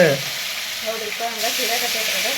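Fish frying in very hot oil gives a steady bright sizzle, close and loud, with a faint stirring or crackle running through it and no voices.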